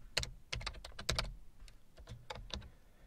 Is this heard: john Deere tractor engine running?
no